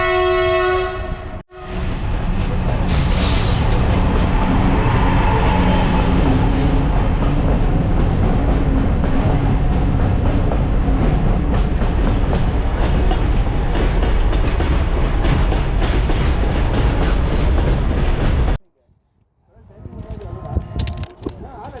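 A train passing on the Sakleshpur–Subramanya rail route in Karnataka, a loud, sustained rumble and clatter with a horn blast early on, ending abruptly; voices follow near the end.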